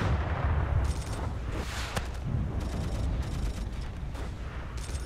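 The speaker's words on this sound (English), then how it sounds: "Every single explosion sound is just a half-life explosion sound." Battlefield 1942 combat fills the space with a dense, continuous barrage of booming explosions and crackling gunfire, rumbling heavily and layered with sharp repeated bursts throughout.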